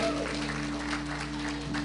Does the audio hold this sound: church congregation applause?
yes